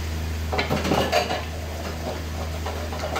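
Elbow macaroni being stirred in a pot for a spaghetti-style dish, with metal utensil scrapes and clinks against the pot over a steady background hum, close and moderately loud.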